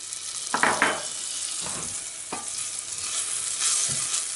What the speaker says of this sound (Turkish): Tereyağını ekleyip eritelim.